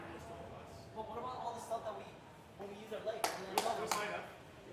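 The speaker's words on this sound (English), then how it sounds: "Keem's clapping" A few sharp claps ring out near the end during a Twitch Rivals balloon game, faint and brief against background commentary and crowd noise.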